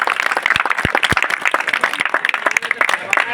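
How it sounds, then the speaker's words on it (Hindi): Crowd applause at a wrestling gym event in Borgaon Khurd, Khandwa, with dense, loud clapping carrying on throughout and a few sharper individual claps standing out near the front. "ताली बजाओ।"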